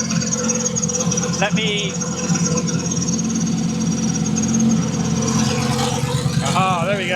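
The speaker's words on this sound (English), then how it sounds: "So it's that fuel pump. It's the high pressure fuel pump." Supercar engine idling with a loud, rough mechanical clatter from a faulty high-pressure fuel pump, a steady close drone throughout, with a person speaking briefly and a few chirping whines over the noise.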